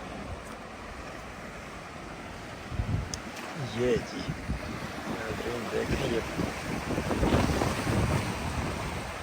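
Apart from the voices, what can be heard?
sea waves at harbour with wind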